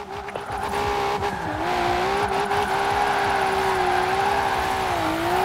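A race car in Forza Horizon 4 speeds into a drift, its engine droning in a loud, sustained whine that dips briefly and then holds high, with a faint tire hiss beneath and no talk.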